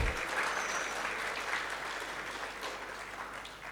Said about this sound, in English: We need really a good round of applause from you all.